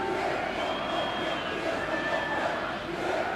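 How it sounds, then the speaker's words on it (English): Stadium crowd noise at a UEFA Women's Champions League quarterfinal between Brann and Barcelona, a steady dense murmur and low roar reacting to a VAR decision, sustained and fairly loud throughout with no distinct cheer peaks. "The news has been fed to the crowd and reacting in the way you might have expected"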